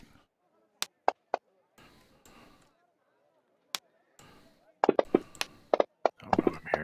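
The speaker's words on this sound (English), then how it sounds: "I'm hearing dice rolling" Dice rattling and clattering on a table during a tabletop role-playing session, sharp scattered clicks and tumbling bursts near the end, with people talking over part of it.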